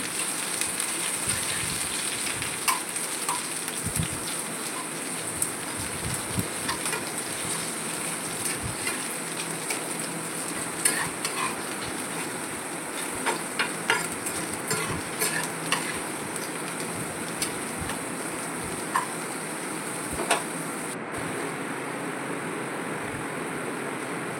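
Dried red chillies frying in hot oil in a pan, a steady close sizzle with scattered crackles and pops and occasional stirring scrapes, with no voices.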